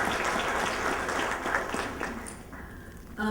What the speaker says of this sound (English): a big applause to all of you for being here with us today